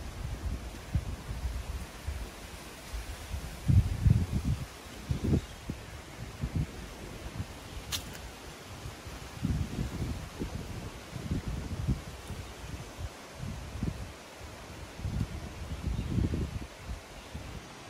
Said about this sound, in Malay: Sunyi, bunyi air terjun, bunyi angin, bunyi pokok, bunyi serangga, bunyi haiwan, bunyi monyet